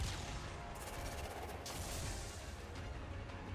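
Gunfire in a shooter video game, a dense rattling barrage of rapid shots with sharp bursts, heard faintly and continuously under a busy background.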